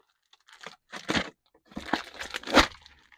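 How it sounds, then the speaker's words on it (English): A Beyblade package is cut open in a few short bursts of crinkly plastic crunching and tearing, close to the microphone, with brief quiet gaps between them. "Hold on, I'm trying to cut this."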